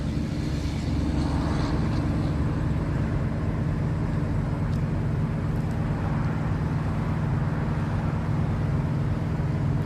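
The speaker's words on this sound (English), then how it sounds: "Are the trucks too loud?" Loud, steady low rumble of heavy trucks passing close by at a night campsite, a continuous drone with no gaps.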